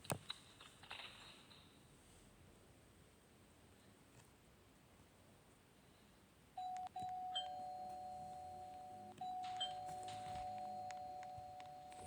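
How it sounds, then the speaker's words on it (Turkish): A doorbell buzzes in two long steady rings, with soft keyboard tapping and faint room noise before them. "Zil çalıyorum."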